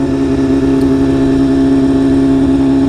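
A 2016 BMW S1000RR Premium motorcycle fitted with an SC Project exhaust, ridden along back roads, holds a loud, steady engine drone close by with no break and no talk.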